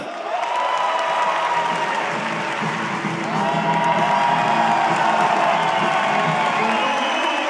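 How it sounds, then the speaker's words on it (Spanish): A live comedy-show crowd at Gran Arena Monticello applauds and cheers to welcome comedian Lucho Miranda, a thick, continuous wash of clapping with whoops and shouts rising slightly toward the end. "quiero que recibamos con un fuerte, fuerte aplauso al gran Lucho Miranda"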